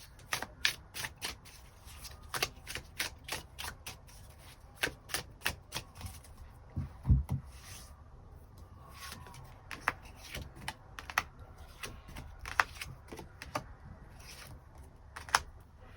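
A tarot deck is shuffled and cards are drawn, making a long run of rapid papery clicks and flicks with a few sharper snaps, close by and steady.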